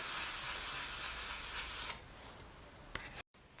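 Sandpaper rubs the sides of a polymer clay pendant in steady, close rasping strokes that stop partway, leaving a quieter hiss and a few faint scrapes, with no voices.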